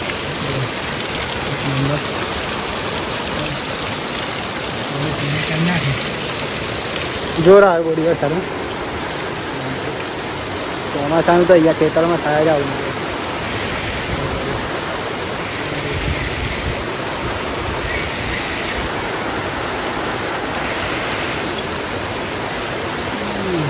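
Steady rain pours down on a farm during millet threshing, a constant hiss, with a few people talking briefly over it now and then.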